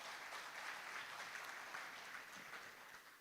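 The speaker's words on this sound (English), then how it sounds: "Can we give man another round of applause for this?" Applause from an audience at a Nigerian manufacturers' summit fills the hall, a steady wash of clapping at moderate distance that tapers slightly toward the end.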